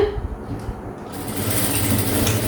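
Blouse fabric runs through a sewing machine, its steady whirring stitching continuing for the whole brief stretch at close range.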